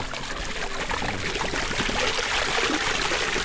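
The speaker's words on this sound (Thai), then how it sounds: "น้ำไหลดีครับไหลดีแน่นอนเพราะว่าปั๊มไฟฟ้า" Water from an electric pump with a six-hun outlet, fed through a two-inch pipe, pours steadily into an old fish pond, making a continuous splashing rush that stays loud and even throughout with no speech.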